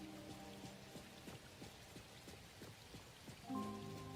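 Rain weather in Neverness to Everness, steady patter of drops on surfaces with a soft ambient hiss and a faint musical tone entering near the end, fairly quiet throughout.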